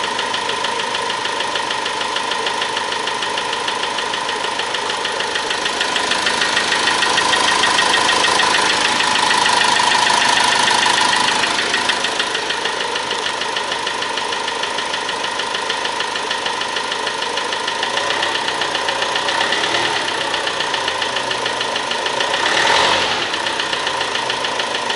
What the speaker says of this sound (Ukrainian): От чути такий стучок.